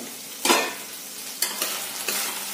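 Roasted coconut is stirred into hot oil while cooking a pumpkin dish, bringing three distinct bursts of sizzling scrape over a quieter frying hiss, close and without speech.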